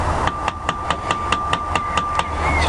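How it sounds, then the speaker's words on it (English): Light hammer taps work copper out of a groove in an electric motor rotor during a recut, a steady series of about a dozen evenly spaced strikes over a faint constant hum, no talking. "I can just gently tap it along with a hammer"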